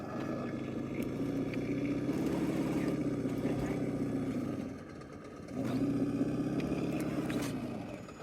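RC model car engine idling at a monthly RC meetup, a steady buzzing drone that holds for several seconds, dips briefly, then returns at similar loudness, fairly close with no talk.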